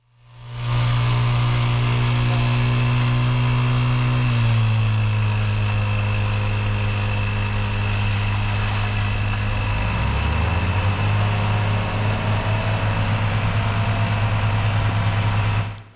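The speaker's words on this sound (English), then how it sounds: "This small vibratory screed really did a great job screeding the concrete." Small vibratory screed running on fresh concrete for a log barn slab: a loud, close engine drones with a steady vibrating hum, its pitch dropping slightly partway through, then holding steady.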